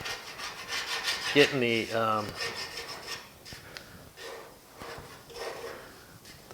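Sanding body filler on the lower cab patch panel of a 1950 Chevy truck gives a steady scraping rub that runs throughout, with a brief voice speaking over the middle of it.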